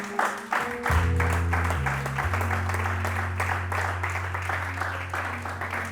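Church congregation applauding for the Lord, a steady wash of clapping that stays loud through the whole stretch while a low sustained organ or keyboard drone holds underneath.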